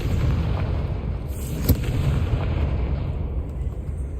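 A Confringo spell explosion in Hogwarts Legacy, a fiery blast with a deep rumbling boom and a sharp crack near the middle over a continuous low roar.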